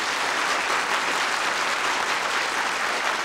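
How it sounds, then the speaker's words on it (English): Keynote audience clapping as loudly as they can in unison: a continuous, dense wash of hand claps, loud and close, with no talk over it. "Would you take your hands and clap like applause really loud, really loud, really loud?"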